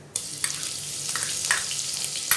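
Ginger garlic paste sizzles in a clay cooking pot, a sudden loud hiss as it hits the hot oil and then a continuous crackling fry with a few sharper pops, with no one talking.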